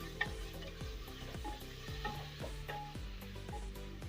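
Arvi gosht curry with green chilies is stirred in a pan, a spoon or spatula scraping and knocking in a regular repeating rhythm over a soft sizzle.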